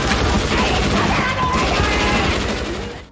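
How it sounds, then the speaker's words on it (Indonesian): Pistols and rifles fire in a chaotic yakuza film shootout, a loud dense barrage of overlapping shots and crashes that runs throughout before tailing off at the end. "Jadi mereka ikut-ikutan saling tembak satu sama lain pakai pistol beneran."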